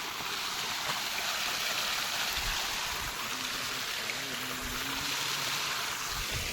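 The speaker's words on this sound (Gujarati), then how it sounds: "અહીંયા બીજા પાણી આવે છે મિત્રો।" Water rushes steadily through an irrigation channel in a field, a continuous close wash with a gurgling edge, a faint low tone drifting in now and then.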